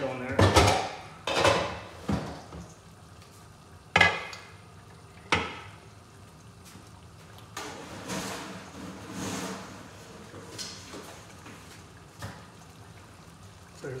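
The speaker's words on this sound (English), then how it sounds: "I basically put the crawfish in there. And put the lid on there." Metal pot clatter and a lid set down while live crawfish go into a cooking pot, a few sharp clanks and knocks spaced apart with quieter rustling between them.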